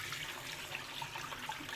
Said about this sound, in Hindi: अब इसमें पानी हम डालेंगे 8 लीटर।